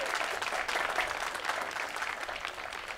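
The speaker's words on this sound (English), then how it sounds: "let's just give them a rounding rousing of applause." Audience applause for board members at an outdoor MLK celebration in Ocoee, a dense, steady wash of clapping that fills the whole stretch before tapering slightly at the end.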